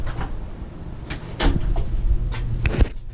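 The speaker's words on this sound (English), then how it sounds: "let's open this door and get to the new ride" A door is opened with a few wooden knocks and clunks, then a low scraping slide and a final solid thud, close by over a steady low hum.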